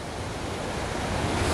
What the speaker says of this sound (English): So here's the waterfall I saw from the road.